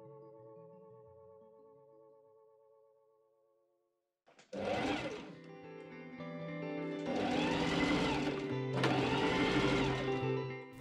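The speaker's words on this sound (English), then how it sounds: "machine sew 1/4 inch seams" A sewing machine stitches quarter-inch French seams in linen for a wrap dress skirt, running in sustained bursts after a quiet, tonal lead-in, with a brief pause between the two loud stretches of steady whirring.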